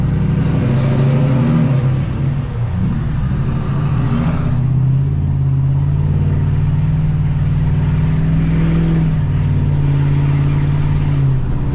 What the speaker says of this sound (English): It's just rolling on the gas.